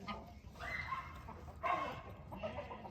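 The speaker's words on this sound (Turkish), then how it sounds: "Köpekler yiyecek kavgası yapıyor." Dogs snarl, yip and whine in short overlapping bursts, a scuffling squabble heard at a moderate distance with low background noise.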